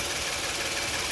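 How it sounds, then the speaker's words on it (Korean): A smooth, steady engine of a 2018 Genesis G80 idling close up, a constant even hum with no breaks. "엔진 소리 들려드릴게요. 엔진 소리."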